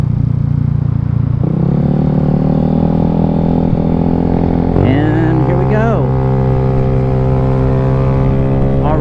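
A modified Yamaha Zuma 158cc scooter with a big bore kit pulls away from a standstill. Its engine drone climbs steadily in pitch as it accelerates hard, close and loud, with wind rush and a voice faintly underneath.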